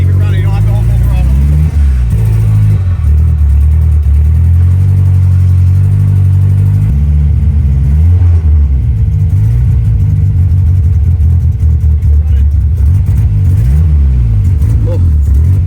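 The turbocharged engine of a Chevy LUV runs with the throttle held partly open, a loud, continuous rumble with slight rises and dips in pitch, and voices speak over it.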